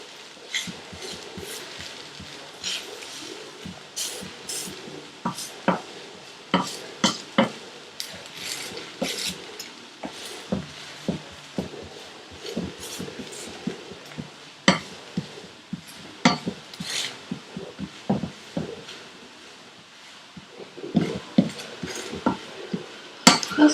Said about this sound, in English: just keep dabbing so that, very lightly though, the sides cook well